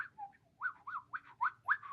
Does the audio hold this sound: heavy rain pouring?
no